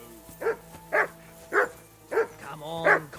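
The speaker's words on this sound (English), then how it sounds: "I assume you can hear that damn dog of yours barking." Five sharp barks from a dog in the video game Kingdom Come: Deliverance 2, evenly spaced and close by, over a quiet low hum.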